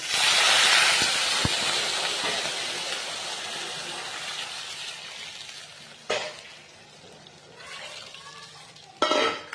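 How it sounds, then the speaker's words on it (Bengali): Lukewarm water is poured onto lentils frying in a pan for a kochu shak dish. It sets off a loud, hissing sizzle that fades slowly, followed by a few short clatters from stirring. "এখন ডালটা ভাজা হয়ে গেছে, এবার হালকা উষ্ণ জল আমি দিয়ে দেবো"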